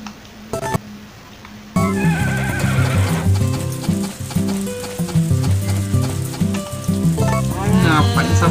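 Horse whinnies loudly and hooves clip-clop in Harvest Moon: A Wonderful Life Special Edition, the neigh rising over game music after a brief quiet start, with steady hoofbeats running beneath.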